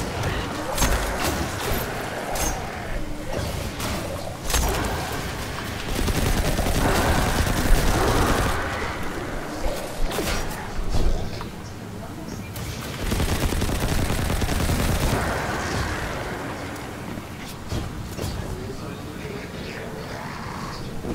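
Sniper rifle fire and other gunfire in the video game Destiny 2 during a busy firefight. Repeated loud shots and bursts come through dense, layered game noise and fill the whole stretch without let-up.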